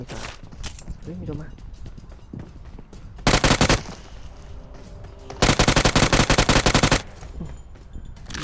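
Bursts of automatic gunfire in PUBG Mobile on ultra HDR graphics: two loud, rapid volleys, one short and one longer, break through an excited voice talking over game ambience.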